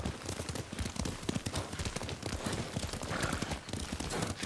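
Galloping horse hoofbeats in the samurai action game Ghost of Tsushima, a steady rapid clip-clop of hooves pounding close and loud over a rumbling ground, with a brief whinny and no talking.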